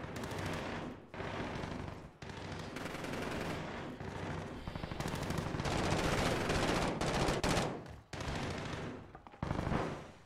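Continuous automatic AK rifle fire with a suppressor in an online video game, long dense bursts broken by a few short pauses, loud and close with no talk over it.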